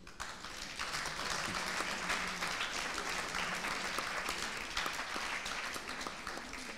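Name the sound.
audience applause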